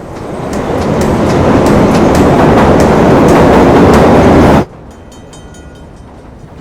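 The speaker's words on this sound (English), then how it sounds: "A train arrives at the metro station and Chris boards it." A metro train pulls into a station with a loud, close rush of rolling wheels and rhythmic clacking that builds and holds, then cuts off abruptly to a quiet, faint background.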